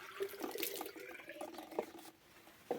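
Water runs into a small jar up close, trickling and gurgling with a rising, hollow tone for a few seconds.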